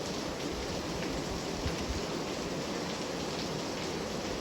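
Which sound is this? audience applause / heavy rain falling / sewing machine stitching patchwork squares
heavy rain falling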